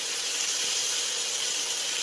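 Chicken for fajitas sears in a hot pan, a steady, even sizzling hiss that stays constant throughout with no talk.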